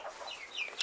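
Hens clucking inside a hen house, with a few short, bright calls rising over a soft, steady background of coop noise; a fairly close, busy flock with no talking.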